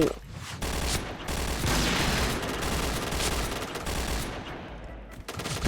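Sustained automatic fire from a G11 rifle in the PUBG video game, a dense, loud rattle of rapid shots running for several seconds with brief gaps near the start and end.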